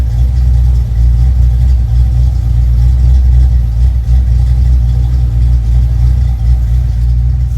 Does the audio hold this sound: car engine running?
yes